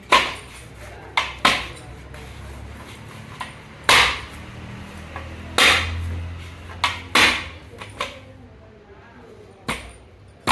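Horse gram papad dough slapped and pounded on a stone, with sharp separate thumps in an irregular rhythm, close and fairly loud, with quiet gaps between strikes.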